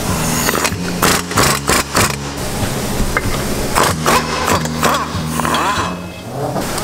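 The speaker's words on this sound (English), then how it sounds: "Start off with getting a 17 millimeter. You're going to take off these two bolts." Transmission mount bolts come off a 2017 Subaru WRX with a 17 mm socket. Loud, close ratcheting comes in repeated rapid bursts with metallic scrapes and clinks between them.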